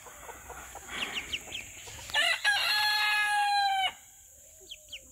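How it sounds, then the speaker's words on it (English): A silkie chicken clucks softly a few times, then a rooster lets out one loud, long crow lasting about two seconds, fairly close, followed by a couple of faint clucks. "I'm going to put this chicken on the ground and we're doing that again"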